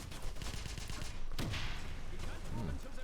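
Grenade blasts and gunfire crowd a Wolfenstein (2009) firefight on PC, a dense, fairly quiet rumble with a sharper burst partway through.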